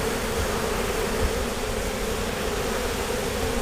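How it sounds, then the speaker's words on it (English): A honeybee swarm gathered in a tree gives off a dense, steady buzz that holds at an even level throughout, close and unbroken. "Swarms are so much fun. They're so gentle."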